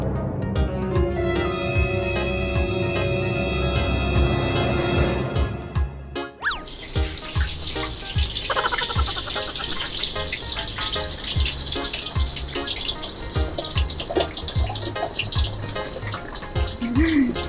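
Pork belly for lechon kawali deep-frying in a large amount of oil, a dense continuous sizzle with scattered pops and crackles, rising to a loud, steady hiss after a sharp change partway through, with no talking.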